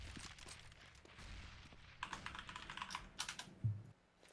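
Rapid bursts of keyboard typing during an online Counter-Strike style match, quiet clicky keystrokes coming in quick clusters with brief pauses, faint and close.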